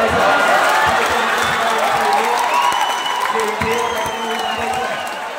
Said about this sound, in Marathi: जल्लोष बघा मैदान क्रमांक 2 वरचा जल्लोष पाहता येतो